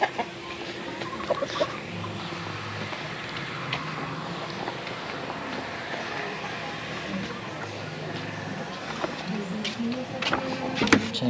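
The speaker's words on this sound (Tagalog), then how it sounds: "Ito yung mga manok." Chickens cluck and call on a livestock farm, scattered clucks near and farther off over a low background hum, with a person talking at times.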